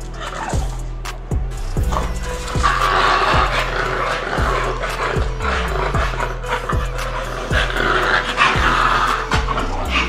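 Exotic bully dogs growl and posture at each other indoors, giving low rumbling growls with short sharp vocal bursts at a steady pace, fairly close and sustained throughout.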